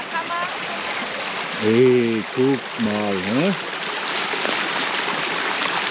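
A babbling stream in a quiet Palatinate valley, a steady rushing and splashing of water heard throughout while a person speaks briefly over it.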